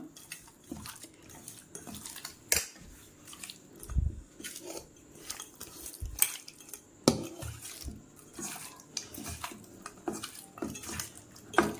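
Sardines being mixed with masala by hand in a bowl, soft wet squelching and slapping with scattered clinks of the bowl, close and fairly quiet, no talking.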